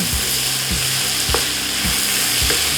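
Chilli flakes frying in hot oil, a loud close sizzle with regular rhythmic clanks of a spatula stirring against the pan about every half second.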